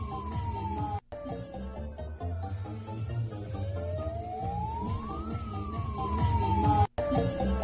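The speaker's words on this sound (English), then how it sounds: "Just like there's the air siren." An air raid siren at a student protest encampment wails in long rising and falling sweeps over a busy, noisy background, loud and sustained with a couple of brief cut-outs.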